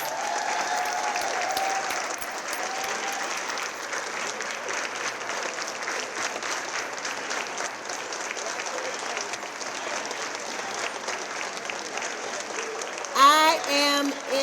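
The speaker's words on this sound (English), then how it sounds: "Please help me congratulate all of our outstanding award recipients with one more round of applause" A school academic excellence awards banquet audience applauds in a sustained, full round of clapping from a sizable crowd, steady and fairly even, with a voice breaking in near the end.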